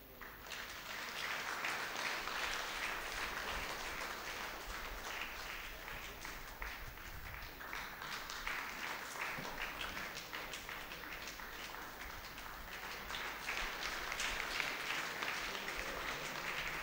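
A church congregation at Sunday mass claps loudly and continuously during a felicitation, a thick, sustained patter of many hands lasting well over fifteen seconds, with a voice briefly audible beneath.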